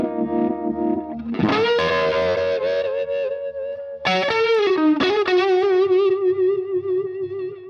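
Electric guitar through a Sabbadius Funky-Vibe 68 uni-vibe pedal, distorted sustained chords swirling with a pulsing, phasing wobble, loud and close, with a couple of fresh chord attacks ringing out alone.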